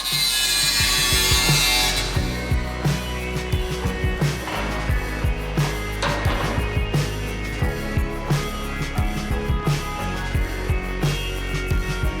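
A Honda Civic side skirt being carefully trimmed to fit, a rough rasping cut at the start followed by a long run of regular scraping strokes in steady rhythm, close and fairly loud with no talk.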